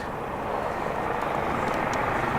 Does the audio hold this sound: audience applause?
no